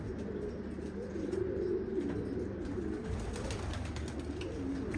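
A pigeon coos softly and repeatedly at moderate distance, low throaty calls rolling in a loose rhythm over a faint background hiss, with no voices.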